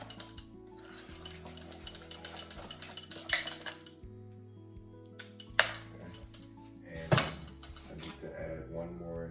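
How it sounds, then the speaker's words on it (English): Wet breakfast batter stirred in a bowl with a utensil, quiet scraping and occasional sharp clinks against the bowl, in a kitchen with a hum underneath. "And I'm gonna mix that up some."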